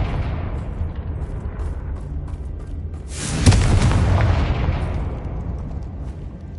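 A Confringo blasting spell explodes in the Hogwarts Legacy video game, a sudden loud boom that erupts midway over a low rumbling background and then trails off into a fading roar.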